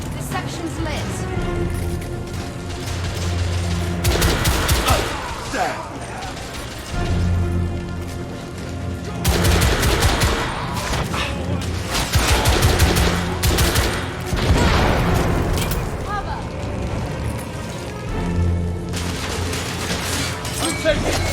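Heavy gunfire erupts in The Order: 1886, a Victorian-era third-person shooter, with repeated volleys and bursts of shots in clusters across the stretch, loud and close, mixed with crashing impacts and voices talking.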